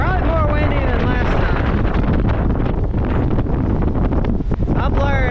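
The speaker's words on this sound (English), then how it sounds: "It is very windy." Strong, steady wind buffets the microphone at the top of the St. Augustine Lighthouse, a loud continuous roar with gusty surges throughout and no pauses.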